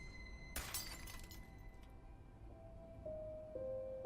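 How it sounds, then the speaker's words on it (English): Glass shatters once as a sound effect, a sharp loud crash followed by a tinkling scatter of fragments that fades into faint tones. "And then I heard glass break."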